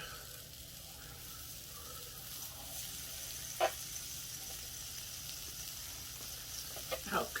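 Steak sizzles in butter in a pan over raised heat, a steady soft hiss with a couple of brief sharper pops and crackles, fairly quiet and continuous, no one talking.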